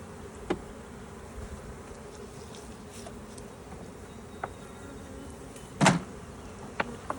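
Honey bees swarm around an open hive during a spring inspection, a low continuous hum under the scene with close individual buzzes darting past now and then, and one sharp knock of equipment near the end.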